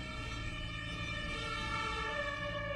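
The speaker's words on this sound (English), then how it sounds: "Sirens outside." A steady wailing siren with layered harmonic tones, fairly loud and continuous, with no voices present.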